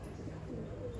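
Pigeons coo softly at a pigeon-keeping setup in Barrackpore, a low steady murmur of calls close by with faint background noise.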